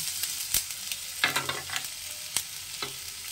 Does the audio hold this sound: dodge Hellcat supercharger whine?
no